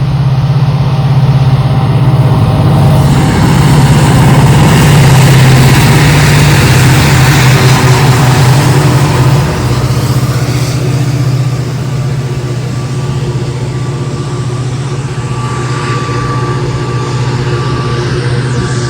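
A train engine gives a loud, steady low rumble with a constant hum that drones on for the whole stretch, easing slightly in the second half.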